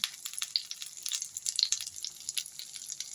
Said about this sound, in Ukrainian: Смажиться на помірному вогню.